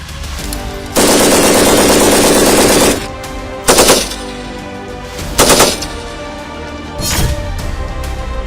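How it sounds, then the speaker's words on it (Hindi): A medium machine gun fires during an Indian Army exercise: one long sustained burst of rapid shots, followed by three shorter bursts spaced a couple of seconds apart, loud and close. "MMG से गोलीबारी"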